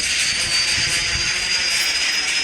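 Helicopter engine starting up in the video game Granny 2: a steady, loud whine of rotor and turbine with a faint pulsing beat, running alone throughout.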